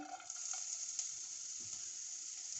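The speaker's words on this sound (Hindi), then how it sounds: "अब हम इसमें 2 टेबलस्पून ऑयल डालेंगे और ये इसमें प्याज डालेंगे" Chopped onions sizzle steadily in two tablespoons of hot oil in a pan on a lit stove for an aloo chicken samosa filling, a constant bright crackle close by with no talk.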